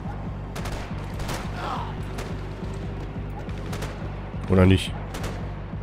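Gunfire in the game Max Payne 3, scattered shots and a sharp loud blast near the end, under game ambience and someone speaking German.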